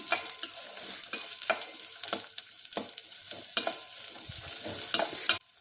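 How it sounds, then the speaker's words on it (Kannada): Two cloves and two cardamom pods fry in hot oil with a little garlic and ginger for a mushroom gravy. The close, crackling sizzle is broken by repeated sharp scrapes of a spoon stirring the pan. "ಇವಾಗ ಎಣ್ಣೆಯಲ್ಲಿ 2 ಲವಂಗ ಹಾಕ್ಕೊತಾ ಇದ್ದೀನಿ, 2 ಏಲಕ್ಕಿ ಕಾಯಿ"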